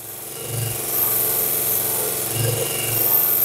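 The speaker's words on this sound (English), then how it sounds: "I do love this little belt sander, but it really is quite noisy." A small belt sander grinds steadily against a sarkanda reed float body, bevelling its end, a loud continuous abrasive whine with faint thumps as the piece is turned against the belt.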